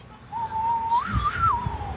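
A person whistles a short Western-style melody, a single clear wavering tune that rises and falls over about two seconds, close and moderately loud, with a few soft background thumps.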